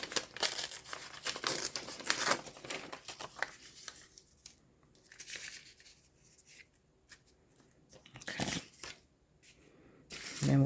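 Paper torn by hand for a mixed media art journal, a few close, dry ripping bursts with rustling and crinkling between them and quieter pauses in the middle.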